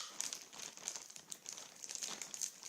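Nail scissors snip and crinkle through iPhone 5 plastic packaging, a faint, continuous run of papery crackles and cuts close by with no voices.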